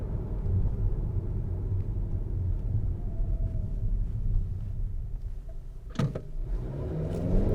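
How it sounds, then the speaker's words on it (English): A 2021 Acura TLX A-Spec sedan accelerating hard at night, heard from inside the cabin as a steady low engine rumble that swells toward the end, with a brief click partway through. "Maybe just one last little pull here. That's definitely fun."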